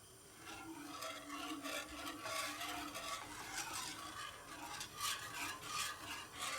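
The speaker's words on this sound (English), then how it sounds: "stir it as much as you can so it doesn't stick it in the pan and it doesn't burn" Milk-based bechamel sauce being stirred in a pan: soft, continuous rubbing and scraping strokes in a steady rhythm, close and fairly quiet, with a faint sizzle underneath.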